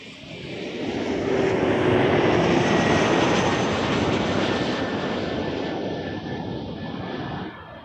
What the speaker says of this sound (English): Brickyard 3555 from Newark, flying for United Express on an Embraer 175